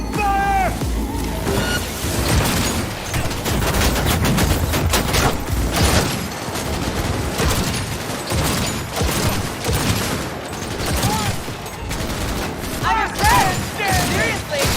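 Video game gunfire in Cyberpunk 2077: loud, dense, continuous bursts of automatic weapons and rapid shots overlapping with mechanical clatter, sustained without a break for the whole stretch.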